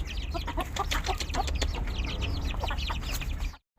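Chickens cluck continuously nearby, a busy overlapping chorus of short clucks over a low background rumble, ending abruptly.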